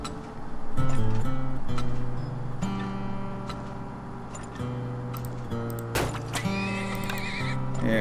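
Horse whinnies and clip-clopping hooves ring out in a video game on an island, with layered music and effects underneath; a loud neigh comes early, then steady hoofbeats and a second burst of noise near the end.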